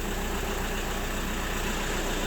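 A SEAT Leon engine with engine issues idles steadily nearby, a constant low rumble with no talking.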